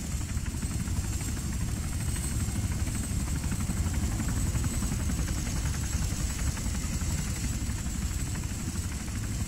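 In the video game Arma 3, a helicopter engine drones steadily with a rapid rotor pulse, loud and unbroken throughout with no voices.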